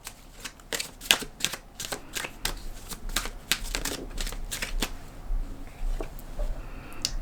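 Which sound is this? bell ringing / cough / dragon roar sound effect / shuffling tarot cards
shuffling tarot cards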